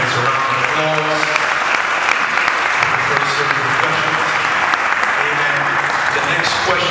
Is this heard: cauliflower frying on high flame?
no